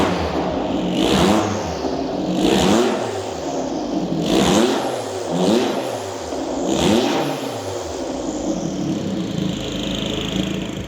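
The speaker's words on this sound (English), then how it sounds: "Start the engine up and the V6 is gnarly." Jaguar XJ220 twin-turbo V6 supercar engine revving repeatedly, loud rising and falling blips in a steady rhythm with a rough mid-range growl and turbo whoosh, no talking.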